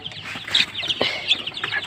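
Native country chickens on a farm cluck steadily at moderate distance, with several overlapping calls and brief bursts of higher chatter throughout, no voices present.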